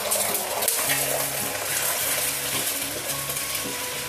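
Egg and kangkong sizzle in a little oil in a pan while being stirred, a steady close frying hiss with soft repeated scrapes and clinks of the utensil, no talk.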